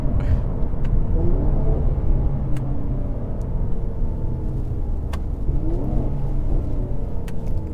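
A Mercedes C43 AMG engine growls and revs in a steady, loud drone, rising and falling slightly with throaty exhaust rumble throughout.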